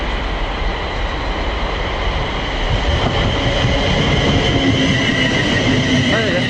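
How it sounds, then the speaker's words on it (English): A Class 350 train passes close by on the rail line near Milton Keynes, a loud, steady rumble and rattle of wheels on track, with a rising squeal of wheels toward the end. "And here comes our train now."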